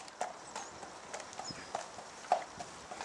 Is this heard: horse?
yes